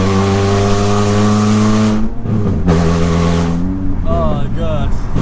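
A Toyota Celica's loud engine drones continuously from inside the moving car, its pitch dipping and shifting, with voices breaking in over the noise toward the end.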